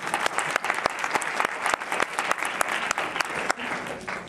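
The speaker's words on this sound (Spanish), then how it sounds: "Un aplauso para ellos por buenos lectores" Dense, lively applause from an audience clapping for readers at a book event, sharp individual claps standing out in a continuous burst without any speech.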